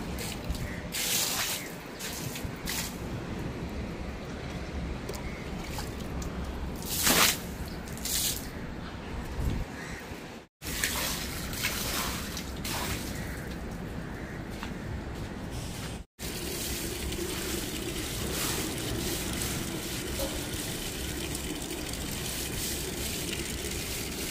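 Running water sprays and splashes while items are scrubbed with detergent water and clattered about, close up, with short breaks in the flow.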